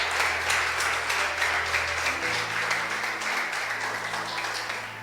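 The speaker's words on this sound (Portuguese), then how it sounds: "Você pode dar um aplauso ao Senhor" A church congregation claps together during a women's network worship service, steady moderate applause sustained across the whole stretch under a low organ-like hum.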